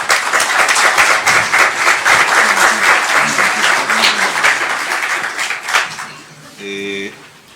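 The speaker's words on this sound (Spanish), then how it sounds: "un fuerte aplauso, por favor" A conference hall audience gives a strong, full round of applause for a speaker, loud sustained clapping that fades toward the end, with a brief voice and a tonal sound at the close.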